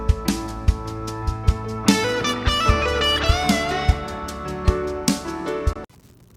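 Guitar riff in steady sixteenth notes with the phrase shifted a sixteenth later, played over a drum groove with regular kick hits, dense sustained harmonics, and a sudden stop near the end; no voices.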